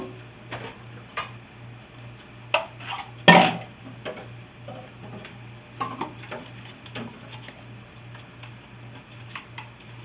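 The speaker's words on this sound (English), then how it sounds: "I'm going to use this scraper to get the apples out of the food processor" A rubber scraper working shredded apples out of a food processor bowl, scattered close scrapes and light taps against plastic, one louder knock partway through, over a faint steady hum and without talk.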